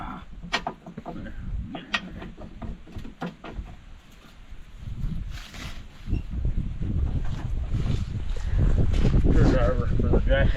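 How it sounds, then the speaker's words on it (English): Cold outdoor wind buffets a camera microphone at a house construction site, producing low rumbling gusts that swell and grow louder toward the end, mixed with scattered clanks and knocks of handling tools. "This wind is cold."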